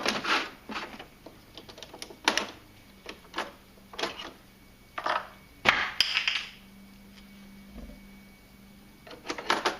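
An HP inkjet printer loaded with a remanufactured HP 61XL ink cartridge whirs and clicks in short, irregular mechanical bursts separated by quiet gaps, close by.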